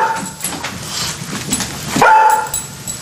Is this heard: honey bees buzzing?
no